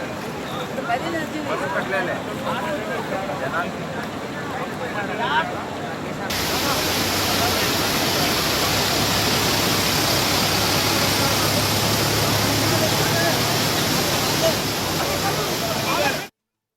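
Floodwater of a swollen stream in Nandyal district, where a travel bus is stranded, rushes as a loud, continuous broadband roar that grows stronger partway through, with voices faintly mixed underneath.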